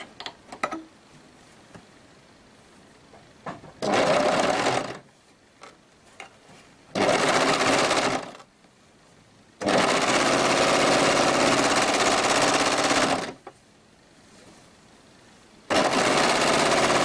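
A sewing machine stitches the seam of a homemade summer top in four loud, steady bursts of rapid mechanical whirring, separated by quiet pauses with faint handling noises.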